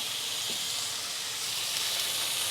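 A pork chop sizzles in a pan, seasoned with salt, coconut powder and pepper, giving a steady, fairly loud hiss that holds constant without pause.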